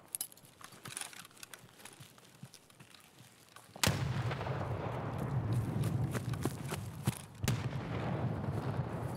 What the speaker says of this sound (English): Gonna spook him with a nade.